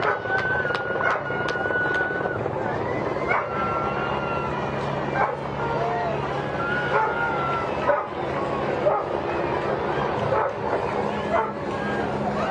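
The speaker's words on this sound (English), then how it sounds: "And when I say let's hear it, the dogs understand. They're answering me back" Military working dogs bark and yip repeatedly at an outdoor Veterans Day parade, the barking close and steady against crowd noise, with a loudspeaker voice talking over it at times.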